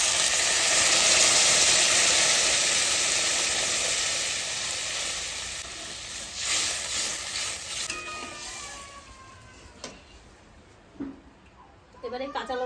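Water poured onto masala fried in oil for dal bursts into a loud, hissing sizzle that gradually dies down to a softer simmer, with a voice talking near the end.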